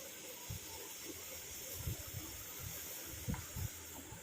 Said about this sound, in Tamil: இப்போ பாருங்கள் நல்லா வந்து கொதிக்க ஆரம்பிச்சிருச்சு.